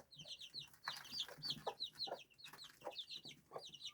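A hen clucks repeatedly among chicks in a farmyard, a quick, close run of short clucks over soft chirping, with no talking.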